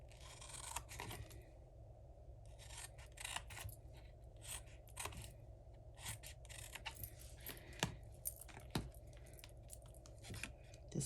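Scissors snip through paper along score lines for a treat box, a quiet series of short, irregular crisp cuts and rustles close by, with no talking.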